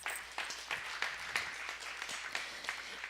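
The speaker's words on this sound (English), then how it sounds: "Give yourself a round of applause." Applause from a small evening audience, fairly quiet and a little distant, with individual claps standing out as uneven bursts rather than a dense roar.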